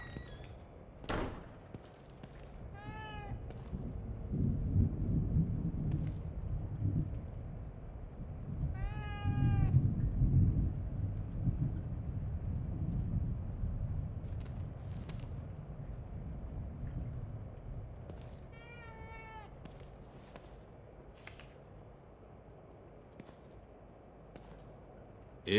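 A cat meows in The Evil Within 2. Several drawn-out meows are spaced apart over a faint, low ambient rumble, with no speech.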